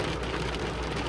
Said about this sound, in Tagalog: tapos ngayon ay biglang banat ng napakalakas na ulan. Yan ang kinalabasan, hail.